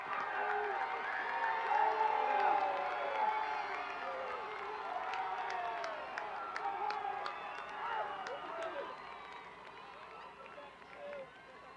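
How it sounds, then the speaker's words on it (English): Crowd noise from people gathered to welcome freed American hostages home from Iran in January 1981: a steady, dense roar of many voices with scattered shouts and some claps, fairly loud and continuous throughout. "All you need to do is listen to the people in the crowd."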